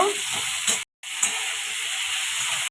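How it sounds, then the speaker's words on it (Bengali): Pointed gourd, capsicum, potato and green chilli with salt fry in a pan for a fish curry, a steady close sizzle with faint stirring scrapes, broken by one brief gap. "পটল, ক্যাপসিকাম, আলু, কাঁচা লঙ্কা, পরিমাণ মতো লবণ দিয়ে এগুলো ভেজে নেব।"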